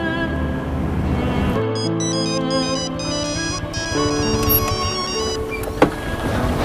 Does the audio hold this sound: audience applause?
no